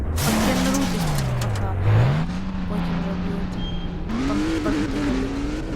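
A BMW engine revving hard while drifting, pitch sweeping down then climbing and holding, with tire noise and a close, loud roar; voices talk faintly under it.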